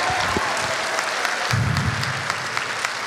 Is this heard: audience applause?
yes